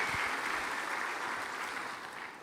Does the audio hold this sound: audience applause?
yes